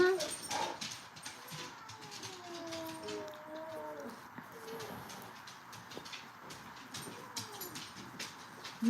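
A dog whimpers indoors with high, drawn-out whines and a few soft yips, fairly close but quiet. Background noise and occasional chatter run underneath.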